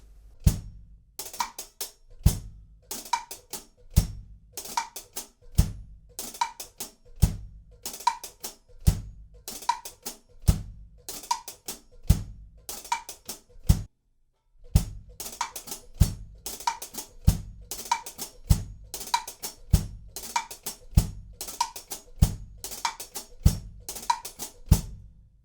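Drum kit groove for the pre-chorus of a pop song, played alone: steady repeating kick and snare hits with crisp cymbal and hi-hat strokes, loud and close, with one brief stop partway through before the pattern resumes.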